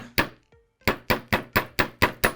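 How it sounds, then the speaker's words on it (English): A hammer strikes a metal wire loop to flatten it: one blow, a short pause, then six sharp taps in a steady rhythm, close and clear. "you're just going to hammer that little loop, just give it just a little flattened"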